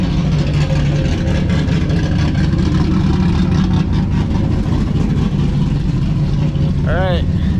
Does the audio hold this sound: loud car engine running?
yes